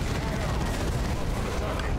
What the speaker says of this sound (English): Because these are bombarding us, it seems.